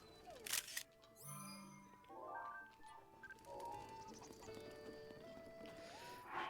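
A horse in the video game Breath of the Wild clip-clops with quiet hoofbeats, mixed with faint whinnies, bird calls and game tones, all soft and low in the mix, with no talking.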